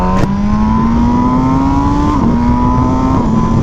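A MV Agusta Brutale motorcycle engine drones loudly while riding, its pitch rising steadily through a gear before dipping at shifts, with constant wind and road rumble underneath.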